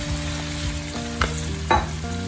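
Marinated chicken frying in a pan, a steady hiss and sizzle with occasional stirring clatter and a couple of louder scrapes, close and continuous without any talk.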